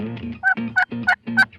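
A wild turkey in a food plot gobbles close by, a rapid series of four warbling, rattling bursts in quick succession, loud and clear with no voices.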